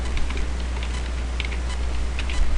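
Rapid, uneven keystrokes on a computer keyboard, close and fairly soft, continuing steadily for a few seconds over a low background hum with no talking.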